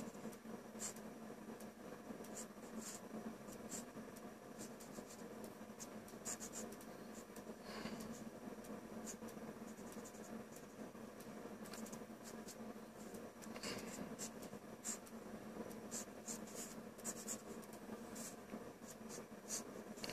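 Pencil sketching a head in profile on paper, a steady soft scratching of graphite strokes close by, continuous with small bursts and no talk.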